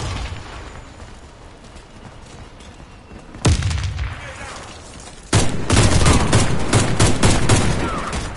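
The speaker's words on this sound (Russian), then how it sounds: "Граната пошла!" A grenade goes off in the PS4 shooter Warface: a sudden loud blast, then a second heavier burst that merges into sustained gunfire-like roar, over steady background battle noise.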